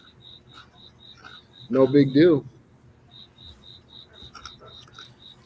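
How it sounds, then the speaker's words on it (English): Crickets chirp from beneath a toolbox in a steady, thin pulsing pattern, close and moderately loud, briefly covered by someone speaking in the middle. "Crickets underneath my toolbox."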